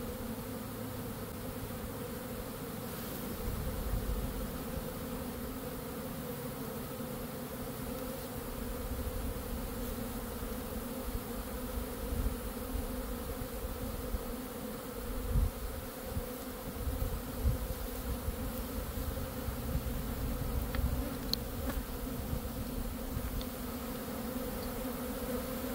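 A dense, constant buzz of many honey bees as a brood frame is shaken off during queen-nursery hive work, loud and close for nearly half a minute, with occasional bumps and knocks.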